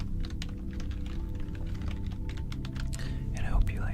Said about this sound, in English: I hope you like the keyboard sounds